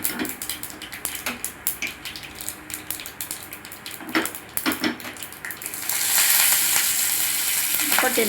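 Mustard seeds and urad dal fry in hot oil for tempering, crackling and popping in scattered bursts that build into a loud, dense sizzle near the end, close and without talk.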